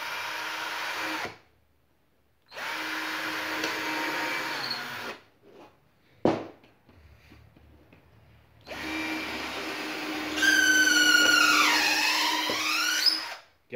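A 12 V cordless drill driver, model QFC1012-25N from CR Ferramentas, runs with a dull bit in several separate bursts of steady whining motor noise, the last one straining as the bit bites and grinds with squealing, shifting pitch.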